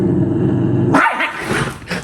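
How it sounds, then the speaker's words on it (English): A dog barks loudly indoors in a few sharp, uneven bursts, breaking off a steady low hum, with no talking. "Sorry, my dog's just going crazy."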